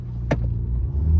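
Volkswagen Taigun launching from a standstill with brake held and revs built, a low engine rumble close by, with a brief sharp higher-pitched burst near the start and the drone continuing after.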